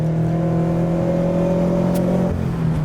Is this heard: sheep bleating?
no